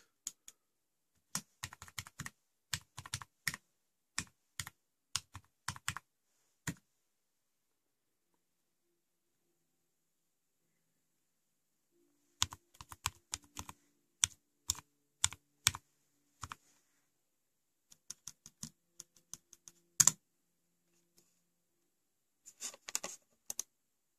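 Keys clatter on a computer keyboard as a password is entered on a Raspberry Pi 2 setup, close and quiet, in several quick bursts of tapping separated by a long silent pause.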